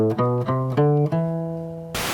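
A short melodic phrase in Phrygian mode, stepping through a few sustained notes that include the flat second degree, played cleanly with no voices, ending in a burst of noise.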